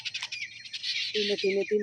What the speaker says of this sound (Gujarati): વહેલી સવારમાં ચકલાનો કલ અવાજ સરસ આવે છે